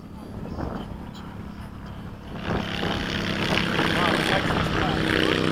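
A Hobby King 70mm Skysword electric ducted fan RC jet on a 6s battery flies fast at an airfield, its whine swelling louder and steadier midway as it passes, with wind buffeting and voices nearby.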